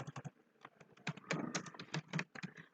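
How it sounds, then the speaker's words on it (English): Fast, steady clatter of keys on a computer keyboard as bullet points are typed into a PowerPoint slide, close and fairly quiet, with no one speaking. "let me type any three bullets here"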